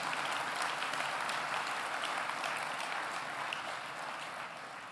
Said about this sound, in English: let's clap again for Plymouth staff